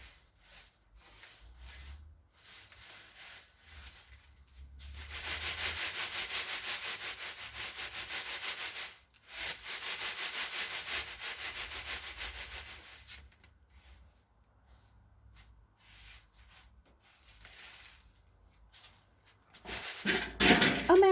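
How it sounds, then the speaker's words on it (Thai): Seeds swish and rustle as they are tossed and shaken in a tray, in long rhythmic bursts with pauses between. "ฝัดนะคะ ให้มันปิวออกไป กากที่เราไม่ต้องการให้มันปิวออกไป"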